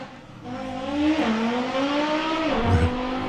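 An Audi drag car launches at Santa Pod during VW drag racing qualifying, its engine note rising and shifting as it pulls away, loud and fairly close with no voices over it.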